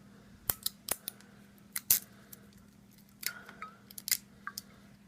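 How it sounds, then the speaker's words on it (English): Seal band on a Martell XO cognac bottle being cracked open, a series of sharp, close snapping and crinkling clicks in irregular bursts, mostly isolated in a quiet room. "Let's go and crack the band on this."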